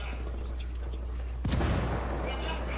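A single sharp burst of gunfire from behind the player in Ghost Recon Wildlands cracks out over a steady low hum and faint background noise.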